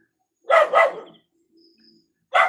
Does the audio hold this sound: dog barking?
yes